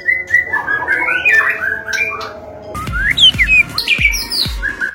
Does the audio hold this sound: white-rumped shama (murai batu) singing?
yes